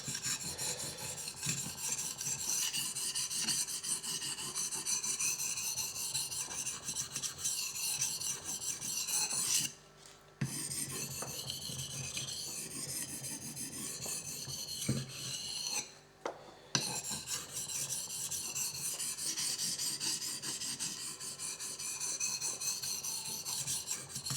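An ESEE 5 knife blade is sharpened on Japanese water stones, making repeated soft, gritty rasping strokes close up, pausing twice briefly, with no talking.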